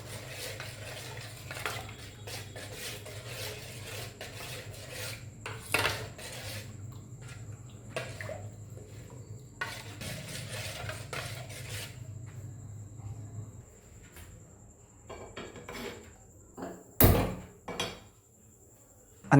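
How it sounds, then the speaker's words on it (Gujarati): Spices and fresh coriander get stirred into a kadhi batter in a bowl, giving soft repeated scraping and rubbing strokes with occasional utensil clinks, close and quiet, ending in a few louder knocks. "આપણે આને બરાબર મિક્સ કરી લેશું"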